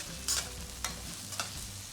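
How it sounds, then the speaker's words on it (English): Shrimp stir-fried alone in a pan for shrimp fried rice gives a steady close sizzle, broken by three quick spatula scrapes and clinks, with no talking. "Stir fry the shrimps alone until it changes color"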